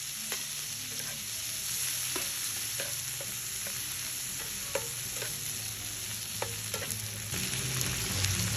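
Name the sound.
sautéing garlic and tomato in a pan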